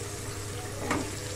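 Potatoes fry in a pan with a dense, continuous sizzle over a low background hum, and a brief louder burst about two-thirds of the way through. No voices are heard.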